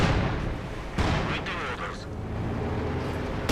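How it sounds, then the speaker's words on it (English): An incendiary artillery barrage lands during a 2v2 Company of Heroes 2 match, heavy booming impacts and rumbling explosions rolling continuously while a commentator talks over it. "Looks like incendiary barrage."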